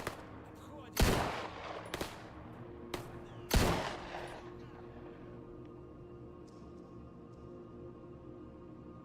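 A shotgun firing in a video game: a few sharp, loud blasts, two heavier than the rest, spaced a second or two apart, followed by a low steady background hum.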